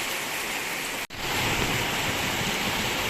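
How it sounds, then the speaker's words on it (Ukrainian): Dense, steady roar of heavy rain pouring down with thunder, broadband and constant, with one brief cut-out near the start before the downpour resumes. "Злива у нас посилюється, гром гримить, злива така, що капець."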